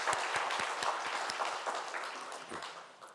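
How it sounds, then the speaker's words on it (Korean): Applause from a church congregation after a prayer-school session closes with a prayer, dense clapping that is loud at first and slowly thins and fades over a few seconds, with no talking. "박수로 서로 축복하고 격려하겠습니다."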